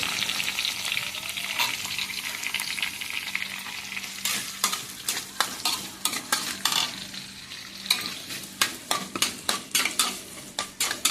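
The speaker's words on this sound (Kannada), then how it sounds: "ಚೆನ್ನಾಗಿ ಫ್ರೈ ಮಾಡುವ." Onion and curry leaves fry in a pan for tondekai kadle gassi with a constant close sizzle, while a spoon stirs and scrapes in repeated rhythmic strokes and no one speaks.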